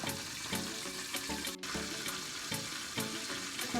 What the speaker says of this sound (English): So in the meantime, the chicken is frying, also steaming.